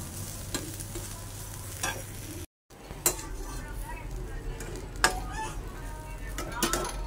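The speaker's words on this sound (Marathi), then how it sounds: "छान परतून घ्यायचं आहे." Soaked, drained dried fish (sukat) being sautéed in a pan, with a steady low sizzle broken by scraping stirs and occasional clinks of a spatula against the metal. A short dropout occurs partway through.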